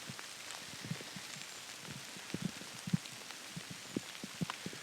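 Rain falls on a misty landscape, soft steady patter with scattered louder drops striking nearby surfaces, fairly faint and continuous with no voices.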